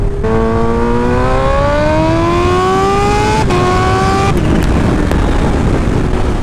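Sport motorcycle with a quick shifter accelerating at moderate throttle, engine pitch climbing steadily through two quick upshifts with brief dips, loud and close over heavy wind rush.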